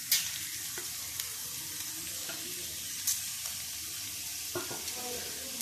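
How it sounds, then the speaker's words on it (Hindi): Mango pieces frying with green chillies in a pan for Kolhapuri thecha: a steady, moderate sizzle with a few light stirring taps and no voices. "और इसको भी हम 3 से 4 मिनट के लिए इनमें फ्राई करेंगे"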